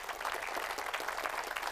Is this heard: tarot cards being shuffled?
no